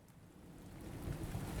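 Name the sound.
storm ambience with rain and thunder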